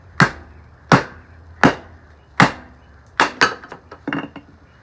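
Six sharp, heavy chops land at roughly even intervals, followed by a quicker cluster of smaller impacts, loud and close, struck by hand in a work glove during a rugged glove durability test.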